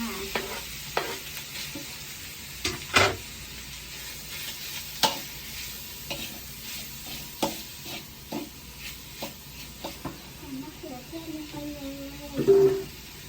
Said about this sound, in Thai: ผัด้พริกให้หอม กับหมูนะคะ ผัดให้หอมเลยผัดผัดให้หอม ผัดมะเขือเทศลงไปเลยค่ะ